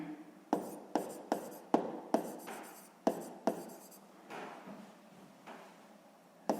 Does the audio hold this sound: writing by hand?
yes